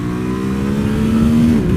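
A 2020 Ducati Monster 1200 S engine revs up close while riding, its pitch rising and holding before easing off in a brief, loud burst.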